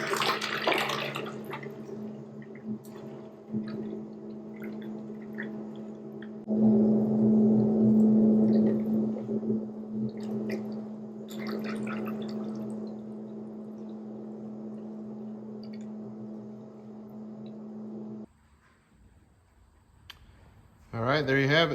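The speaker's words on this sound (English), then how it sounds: "So I just go through, turn the pump on, close the valve, open this one, and start filling buckets." Sugar syrup mixed two-to-one is pumped through a valve into a row of buckets, giving a steady rushing pour over a constant pump hum that stops near the end.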